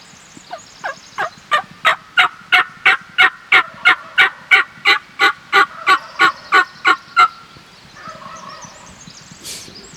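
A wild turkey gobbles during a spring hunt in Idaho, giving a long, loud run of about sixteen rapid, evenly spaced rattling notes nearby, followed by softer clucking and calling.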